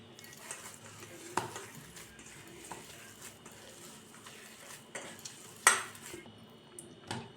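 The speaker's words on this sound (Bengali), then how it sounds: "আমি নুন দিয়ে দিয়েছি, হলুদ গুঁড়ো দিচ্ছি" A spoon stirs salt and turmeric powder into a sago snack in a pan, soft scraping and rustling with a few sharper clinks of utensil on metal, close and fairly quiet, with a faint sizzle underneath.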